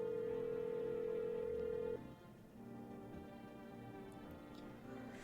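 A telephone line tone in the video game No I'm Not A Human after a number is dialed: one steady, loud tone holds for about two seconds, then cuts off into quieter background game ambience.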